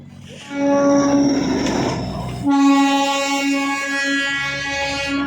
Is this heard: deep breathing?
no